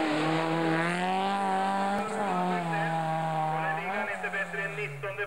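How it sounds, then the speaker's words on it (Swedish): Race car engines at a 1988 hill climb at Tåsjöbacken howl in sustained high revs, pitch holding steady then dipping and rising again near the end as a car brakes and accelerates for a hairpin. "det är pigga motorer i de här holkarna som ni hör"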